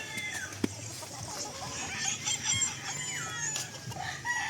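Chickens cluck and chatter close by in a simple backyard coop with a steel gate, while a rooster crows partway through, a busy, layered farmyard sound without talk.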